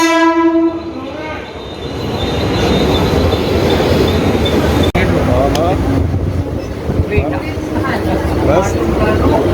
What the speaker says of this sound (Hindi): हाँ तो आ गई हमारी ट्रेन।